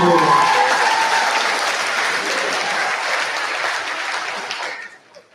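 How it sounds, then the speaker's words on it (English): A school audience at the Mr. AP 2025 pageant breaks into a round of applause, a dense wash of clapping that holds steady for several seconds, with a voice briefly over the start, before fading out at the end. "Round of applause."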